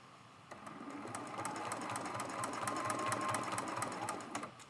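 A sewing machine stitches steadily over already-sewn areas of a quilted Love You mug rug, its rapid needle clatter running continuously and building slightly in intensity, close and alone without voices.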